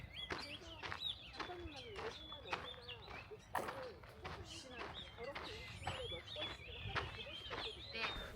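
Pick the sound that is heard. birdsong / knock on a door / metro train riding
birdsong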